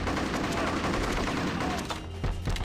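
Grenades exploding in the Bad Boys Miami Takedown video game produce a loud, dense barrage of blasts and gunfire, with a few sharper bursts toward the end.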